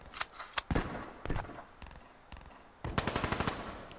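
LMG machine gun fire in Black Ops 3, sharp close bursts of rapid shots with short gaps, ending in a fast sustained burst.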